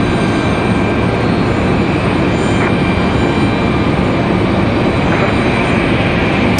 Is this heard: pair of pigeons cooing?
no